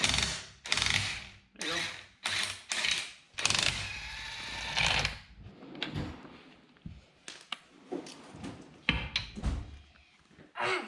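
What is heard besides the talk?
impact wrench removing lug nuts from 1964 Ford Falcon wheel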